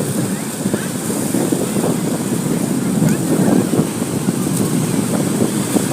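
Sea waves wash onto a beach on the full-moon night of Chitra Pournami, with gusting wind buffeting the microphone over a continuous rushing surf that rises and falls in loudness.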